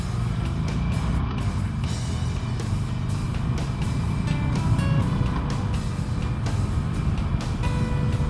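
A 2021 Harley-Davidson Iron 1200 motorcycle accelerates hard from a standstill toward 60 mph, its engine roar steady and loud throughout with a slight swell midway.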